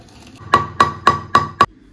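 Roasted cumin and spices are pounded into powder with five evenly spaced, loud, ringing strikes close by, followed by quiet.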